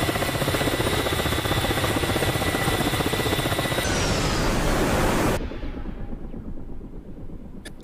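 Mi-24 Hind helicopter rotor and engine in the DCS World game, a loud, dense, continuous roar that cuts off abruptly to a quieter hum, with no talk.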